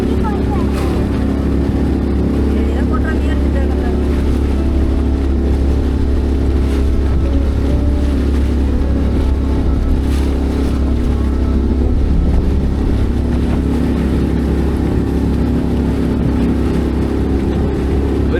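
Small crowded boat motoring toward Sambranikodi in Kollam, Kerala, a steady loud engine drone with rushing water and gusty wind buffeting the microphone throughout.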